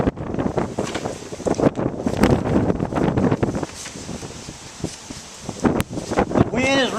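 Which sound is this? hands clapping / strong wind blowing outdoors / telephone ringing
strong wind blowing outdoors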